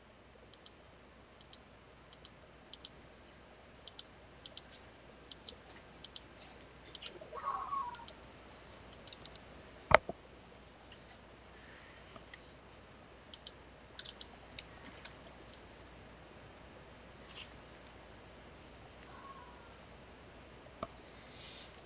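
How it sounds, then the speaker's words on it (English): Quiet, scattered clicks of a computer keyboard and mouse tap irregularly in the background, some in quick clusters, with a faint cat-like meow partway through. "Sorry about that background noise."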